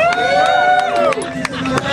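A crowd at a cow-milking contest cheers and shouts loudly in a brief burst, with many overlapping voices close by.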